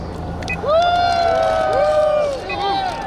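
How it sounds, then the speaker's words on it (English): Crowd at a gun-rights lobby day rally in Virginia cheers and whoops, rising voices over a bed of clapping and babble, loud and close, dipping briefly near the end. "let's give Phil Van Cleve and the VCDL a round of applause"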